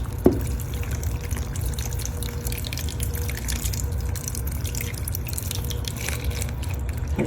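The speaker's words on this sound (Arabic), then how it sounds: "بدي احط له المي." Water pours steadily into a pot while cooking, a continuous close rushing splash that starts with a small clink and runs without pause.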